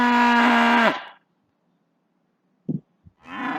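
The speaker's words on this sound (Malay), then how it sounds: "Itu adalah bunyi yang dihasilkan oleh lembu." A cow gives a long, deep moo that fades out, followed by silence, a couple of brief thumps, and the start of another moo.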